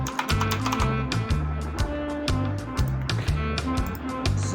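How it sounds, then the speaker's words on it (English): Typing on a computer keyboard, a steady close run of quick key clicks with a few heavier taps, loud and continuous with no pauses. "let's type the name we want to give to our label"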